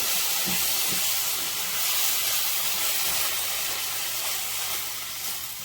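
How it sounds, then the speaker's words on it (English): Liquid poured a little at a time into a hot pan for smothered cube steak gravy, giving a steady broadband hiss and sizzle with faint stirring bumps, close and continuous without talk. "Pour some more liquid. Stir."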